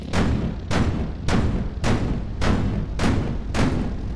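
45mm tank guns firing in the Sprocket tank-design video game: seven heavy booming shots at a slow, steady rhythm of roughly one every half second or more, loud and close, each with a short rumbling decay.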